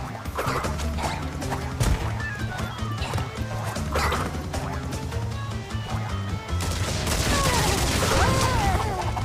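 Nitro crates blow up in Crash Bandicoot 2 with repeated loud crashes and bursts over a busy game soundtrack, and a voice talks now and then.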